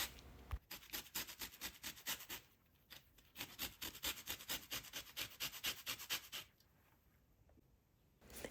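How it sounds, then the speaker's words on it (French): A whole lemon is rubbed across a grater to remove its zest, giving rhythmic, close rasping strokes in fast bursts with a brief pause midway and a quieter stop near the end. "Râpez le zeste du citron entier."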